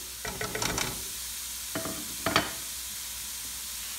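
Cauliflower dropped into hot oil for chicken cauliflower fried rice, a quiet sizzle with a cluster of stirring scrapes near the start and two more bursts of stirring later, close by with no talking.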